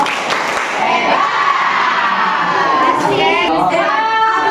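A group of children calls out a loud, excited 'tepuk hebat' clapping chant in unison, their voices up close and cheering, with the clapping itself hard to pick out.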